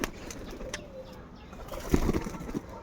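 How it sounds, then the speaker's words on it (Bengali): Pigeons, including a racer-type pair, heard close by with soft low cooing and a brief flutter under faint background noise, without speech. "খুবই সুন্দর কবুতরগুলো।"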